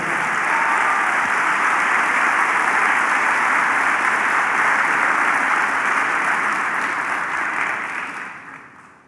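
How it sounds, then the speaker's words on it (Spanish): Church congregation clapping their hands together during a service, a loud continuous wash of applause lasting several seconds before tapering off at the end. "Vamos, dele palmas al Señor."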